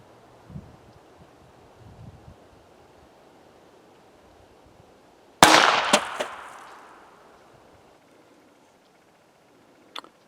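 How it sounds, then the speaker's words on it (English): A single sharp .22 hollow-point rifle shot fired from a 16 gauge drilling, loud and close, with a long decaying outdoor echo, preceded by faint handling noises and followed by a brief click. "And this was a confirming shot."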